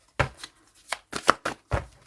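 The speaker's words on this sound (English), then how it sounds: "A few more shuffles and it's over." Tarot cards being shuffled by hand, a series of about six short, crisp riffling bursts with brief gaps between them, close and clear with no talking.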